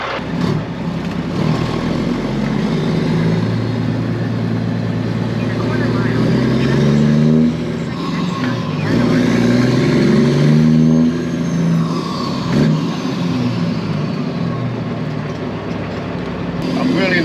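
Traffic rumbles steadily nearby as cars move through a mall parking lot and engines hum, with a voice talking over the low vehicle noise throughout.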